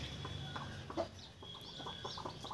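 Brooding hens cluck softly and intermittently in a farmyard coop where chicks have hatched, with low, close murmuring calls and no talk.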